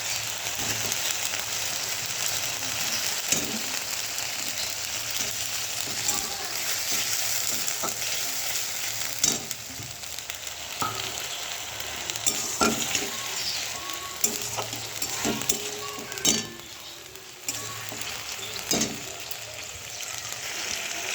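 Chopped tomatoes with masala frying in a pan, with a steady close sizzle throughout and occasional clinks and scrapes of stirring, moderately quiet.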